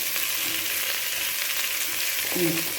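Brinjal, radish, carrot and broad beans sauté in a pot for sambar rice, giving a steady, close hiss of sizzling oil with a couple of soft stirring knocks.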